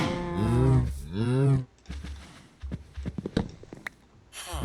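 Cows in the Minecraft video game low loudly twice in quick succession, long harmonic moos up front, followed by scattered game clicks and footsteps with a final short sound at the end.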